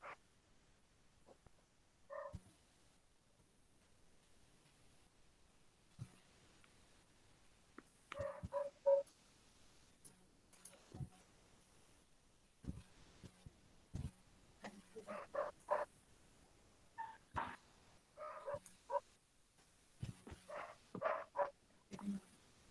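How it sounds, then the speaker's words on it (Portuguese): A dog barks intermittently at a distance, scattered short barks in a quiet room with faint background noise. "Tô escutando um cachorro latindo."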